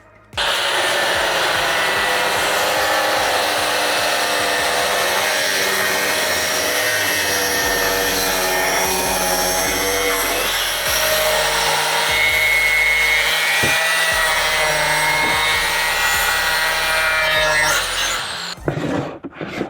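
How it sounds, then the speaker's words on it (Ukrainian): Continuous high-pitched whine of REVOLT cordless angle grinders cutting through material under their own weight, loud and steady for nearly the whole stretch, cutting out abruptly at the end. "Я буду болгарки пускати під своєю вагою, я давити ними не буду."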